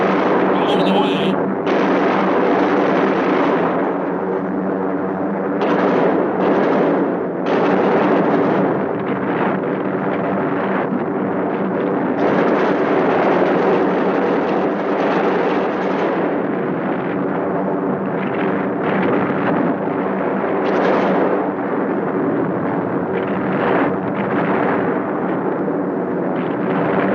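Bombs dropped from a WWII B-24 Liberator detonate in a dense, continuous barrage of heavy blasts and rumbling booms throughout, loud and sustained, mixed with aircraft drone and faint radio voices.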